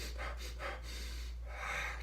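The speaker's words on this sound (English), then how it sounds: "you're using that recovery breath" Recovery breathing after breath-hold squats: a few heavy, airy breaths close to the mic, two quick puffs followed by a longer, rushing exhale.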